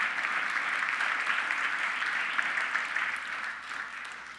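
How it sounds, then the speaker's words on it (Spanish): A church congregation at a Spanish-language service applauds: a broad, even wash of many clapping hands, sustained and moderately distant, easing off slightly toward the end. "Dale otro aplauso a Dios, mi hermano."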